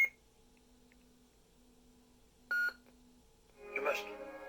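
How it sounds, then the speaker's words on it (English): Nano Biscotti lightsaber soundboard cycling between its three sound font slots: a brief electronic beep, then a short burst of the next font's boot sound, over a faint steady hum in a quiet room. "Until it beeps, and then it cycles over to the next font, and it plays the next boot sound for that font."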